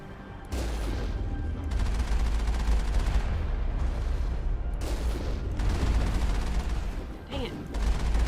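Gunfire from the Mass Effect video game on the Virmire mission: dense, sustained bursts of shots and booming impacts that keep going almost throughout, with a short lull before resuming.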